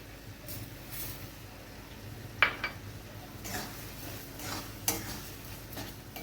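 A metal spatula stirs carrot halwa in a pan just after sugar goes in, with soft scraping strokes, a couple of sharp clinks against the pan and a faint sizzle underneath.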